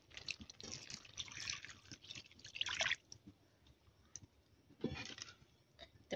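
Gram flour water being poured into a curry masala for taro (kachalu) kofta gravy: soft splashing and sloshing in bursts, with a couple of louder wet splashes, fairly close and without talk.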